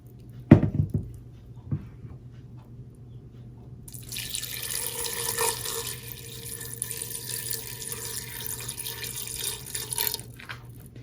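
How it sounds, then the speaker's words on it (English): After a couple of faint knocks, water starts running from a tap and splashes steadily into a pot holding sea moss for several seconds before stopping. "I'm just gonna add a few pieces to my pot and add a little bit of water."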